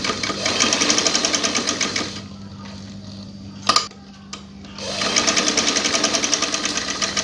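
Sewing machine stitching a gents' waistband strip, a loud close rapid rhythmic whirring chatter that runs steadily, pauses for a few seconds with a couple of handling clicks, then starts up again.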